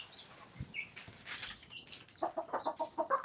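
Chickens cluck nearby in a quick series of short, rhythmic calls that grow busier toward the end.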